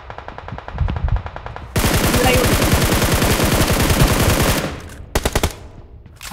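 Rapid automatic machine-gun fire in the BGMI battle royale game, bursts of sharp regular shots, a long loud sustained burst in the middle and short bursts near the end, with a voice faintly underneath.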